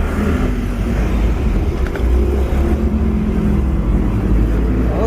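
A car crawls through heavy traffic at night, its engine a steady, loud low rumble with road noise underneath and a faint rise in revs partway through, with no voices over it.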